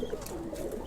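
A pair of household pigeons gives a short, soft coo at close range against a quiet background, with no voices present.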